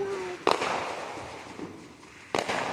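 Fireworks exploding outside, two sharp booming bangs about two seconds apart over a steady hiss of background noise, fairly distant.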